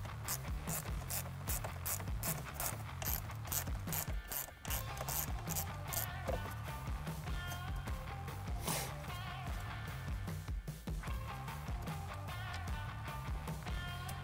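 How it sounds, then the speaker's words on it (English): A 7mm ratchet backing out screws from a trim piece over the sync system, a rapid steady clicking at first, then slower uneven ratcheting and scraping, close and fairly quiet. "we're going to remove these 2 screws here"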